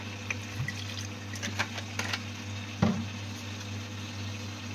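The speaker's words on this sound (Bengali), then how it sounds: "আমি এটার সঙ্গে একটু জল দিয়ে নিচ্ছি" A little water being poured into leftover food in a kitchen, giving brief soft splashes and liquid trickles over a steady background hum, with one louder knock or splash midway.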